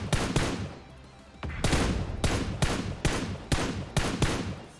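Gunfire in the mobile battle royale game PUBG Mobile, with repeated sharp shots in a rapid, slightly uneven rhythm over a continuous background, loud and close with no speech.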